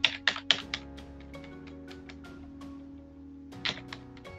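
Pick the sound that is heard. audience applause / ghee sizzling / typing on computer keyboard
typing on computer keyboard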